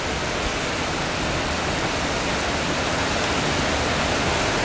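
Heavy rain pours down steadily during a storm in Rangsit, a dense, loud and unbroken hiss with no voices.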